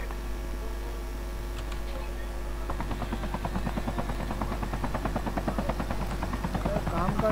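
A helicopter in the Call of Duty Mobile video game drones steadily with a low hum, its rotor chop growing into a loud, fast, even pulsing as it comes closer.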